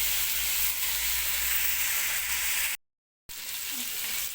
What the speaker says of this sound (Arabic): خلاص كده انا سبت اللحمه تتشوح اكتر عشان تتكرمل